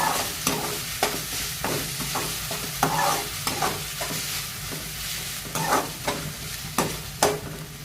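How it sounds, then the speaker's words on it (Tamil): Chopped tomatoes sauté in a hot pan for chicken masala gravy, a continuous sizzle broken by regular scraping stirs of a spoon, close and fairly loud, with no talking. "பெரிய தக்காளியாக 2 தக்காளி எடுத்து சின்ன சின்னதாக கட் பண்ணி அதையும் போட்டு நல்லா வதக்கலாம்."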